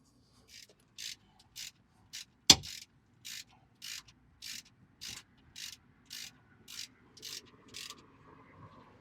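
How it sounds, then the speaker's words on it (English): A ratchet tightens the transfer case drain plug on a 2014 Chevy Equinox: about a dozen short, even ratcheting bursts at a steady rhythm, close and fairly quiet, with one sharp metallic clank early on. "we're just going to reinsert the drain plug, and then we're going to torque it down to 29 foot-pounds"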